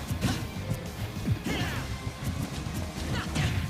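An up smash attack landing in a Super Smash Bros. match between Fox and Bayonetta, heard as several sharp crashing hits with whooshes amid busy game sounds and crowd noise.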